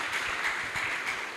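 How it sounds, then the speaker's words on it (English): Brief, even applause from a conference audience, a dense patter of many hands held at a moderate, slightly distant level with no voices on top. "A round of applause, a round of applause"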